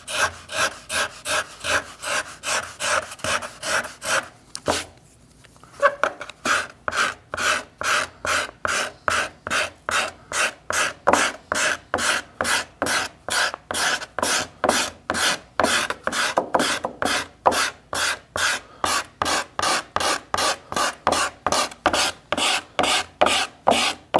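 Rhythmic hand-tool strokes scraping wood as the inside of an archtop guitar plate is carved, steady rasping pulls repeating quickly and close, with a brief pause near the start and no talking.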